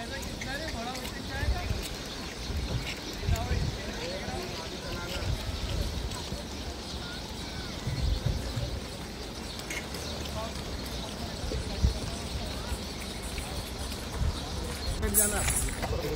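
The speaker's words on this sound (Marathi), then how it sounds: "मग बारी बारीने एक एक जण घोड्यावर बसत होते" Horse hooves clip-clopping at a walk as family members take turns riding during a sightseeing tour, with steady hoof falls under continuous nearby talk and outdoor background noise.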